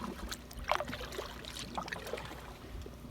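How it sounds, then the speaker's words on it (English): Canoe paddling on a quiet wilderness lake, with soft, irregular water splashes and dribbles from paddle strokes drifting over a faint, steady outdoor background, no voices. "gotta paddle pretty hard to get to where I want to go right now"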